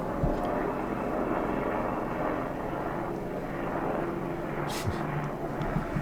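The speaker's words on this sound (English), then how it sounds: "now I got a helicopter flying by outside. A little bit noisy." A helicopter flying by outside produces a steady, broad rumbling roar that fills the background at moderate distance, continuous for several seconds without speech.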